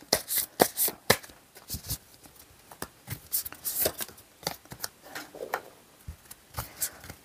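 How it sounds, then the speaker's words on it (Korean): Tarot cards drawn from a deck during a relationship reading, heard as a run of close, crisp card slaps and shuffling flicks in irregular bursts, with no voices over them. "우리 2번 분들 생각하는 그 사람 카드 2장을 더 뽑아볼게요"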